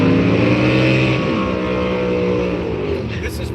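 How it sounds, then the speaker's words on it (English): NHRA drag racing cars at the Las Vegas Motor Speedway strip, a loud, continuous engine roar with harmonic whine that holds steady and slowly shifts in pitch, close and dominating, with a voice partly buried under it. "This is NHRA drag racing"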